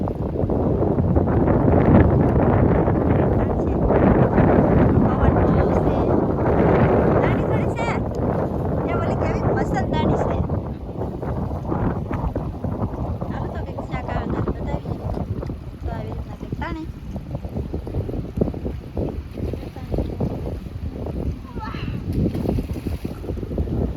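Strong wind buffets a fishing boat out at sea, a loud, continuous gusting roar that fills the whole stretch, with faint voices and boat noise underneath.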